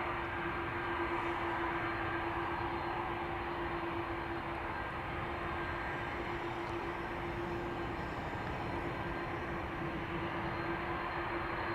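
A Turkish Airlines Airbus A330 departing Amsterdam Schiphol Airport sends out a continuous heavy engine roar with a steady humming tone, sustained and fairly even in loudness for around twelve seconds, heard from some distance.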